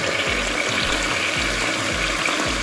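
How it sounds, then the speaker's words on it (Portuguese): Hot water runs from a kitchen tap in a constant rushing stream, with a faint low rhythmic thumping beneath it and no talking. "E vou colocar água quente. A água da torneira está bem quente."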